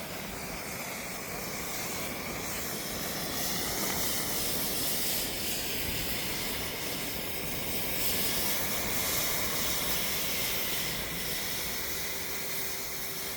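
A fire burns during a fire experiment, giving a steady, loud hissing and crackling roar that holds without a break for the whole stretch, with no talk over it.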